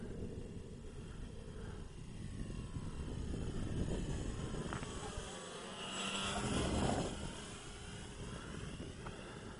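A Dynam Tiger Moth RC biplane on a 4S 2600 battery flies overhead, its electric motor a steady distant whine that swells as it passes closer, then fades.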